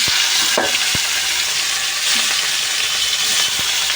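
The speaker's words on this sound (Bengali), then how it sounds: "প্রথমে দিলাম কালো জিরে ফোড়ন। আমি এবার মাছগুলো দিয়ে দেবো।" Hilsa fish frying in oil tempered with nigella seeds gives a loud, close, continuous sizzle with sharp spattering pops throughout, no voices.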